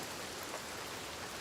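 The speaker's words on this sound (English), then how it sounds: "The rain never stops." Rain falls steadily in the video game Hellblade II, a brief, even, dense hiss of drops with no other sounds or voices.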